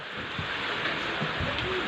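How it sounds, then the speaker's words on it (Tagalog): Heavy rain pours down on a flooding compound in Hagonoy in a steady, dense hiss that doesn't let up, with a few faint low thumps underneath. "Ang lakas. Panang ulan, ang lalim na ng tubig."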